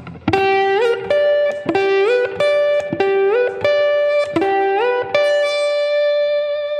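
Twangy slide guitar notes slide upward in a repeating box-shape pattern in standard tuning, each phrase plucked and gliding smoothly between pitches, played close with no talking.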